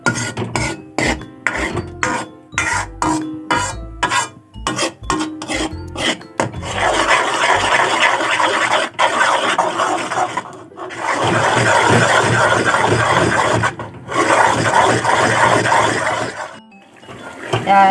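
Cow's milk ghee stirred in a pan over a lit gas stove: a run of quick, rhythmic rasping scrapes gives way to a dense, continuous scraping and bubbling sizzle, close and fairly loud, with no voices.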